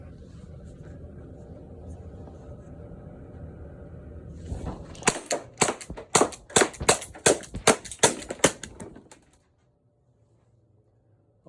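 A Glock 17 Gen 5 T4E less-lethal pistol fires a full magazine, about a dozen sharp cracks in a quick irregular string, each a snappy pop, followed by quiet.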